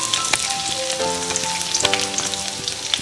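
Chopped ginger, added alongside garlic, sizzles in hot oil in a pan for an aloo sandwich filling, a steady close crackling hiss with scattered pops and a few clinks of utensils, no voices.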